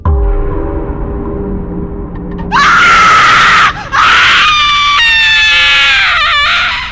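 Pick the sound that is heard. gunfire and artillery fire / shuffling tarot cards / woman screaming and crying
woman screaming and crying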